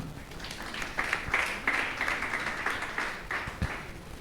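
A church congregation claps together in a sustained, fairly loud round of applause with a rhythmic feel, voices faintly mixed in.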